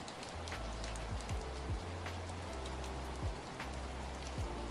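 Rain falls steadily on an ancient Chinese temple in an AI-generated scene, a dense wash of patter and drips with a low drone underneath, and no one speaking.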